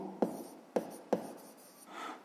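A pen writes an answer to a sixth-grade maths exercise on fractions, making three short, sharp taps or strokes close by, followed by a softer scratchy stroke.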